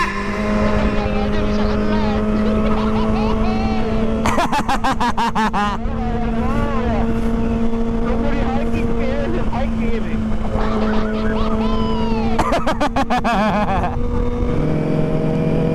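A Kawasaki ZX25R motorcycle engine hums loud and close at steady high revs while riding, with pitch rising and falling and gusts of wind noise; someone speaks over it.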